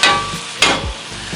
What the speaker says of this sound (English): We're just kind of sauteing them down.